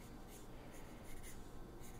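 Graphite pencil strokes scratching across paper while sketching a face, a steady continuous scraping with brief brighter swipes, close and fairly quiet, with no talking.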